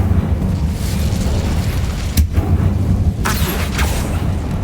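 Incendio fire spell blast in Hogwarts Legacy, a loud roaring burst over a steady rumbling bed, with a sharp crack near the middle and another flaring whoosh shortly after.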